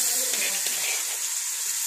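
Dried fish frying in a pan, a steady bright sizzle with soft crackle running through the whole short stretch, fairly close and without talk.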